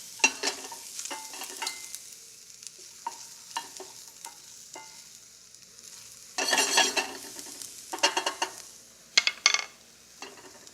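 Protein browns and sizzles in a hot pan, a steady fry crackling under repeated scraping and stirring strokes, with louder bursts of sizzle as the food is moved around.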